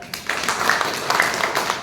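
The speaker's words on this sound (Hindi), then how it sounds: "एक बार जोरदार तालियां बजाएं" An audience claps and applauds at a company gathering, a dense, steady patter of many hands lasting about two seconds at moderate loudness, with no talk over it.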